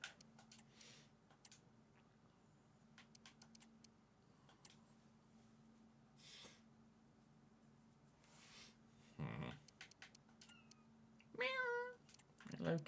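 A house cat meowing during an FC 25 football game session, a faint ticking runs underneath before two or three close, rising meows near the end, with brief quiet talk in the background.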